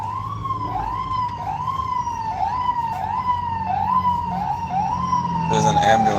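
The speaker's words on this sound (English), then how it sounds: "There's an ambulance behind me." An ambulance siren wails in quick repeated rising sweeps, loud and close over steady traffic rumble, then shifts to a faster yelp at the end.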